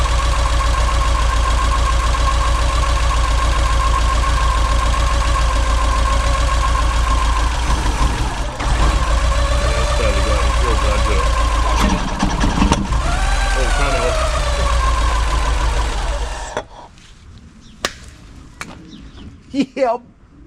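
A Porsche 944 engine with its fuel pump disconnected idles loudly and close, a steady low rumble that wavers before cutting out, followed by a few clicks and knocks in the quiet.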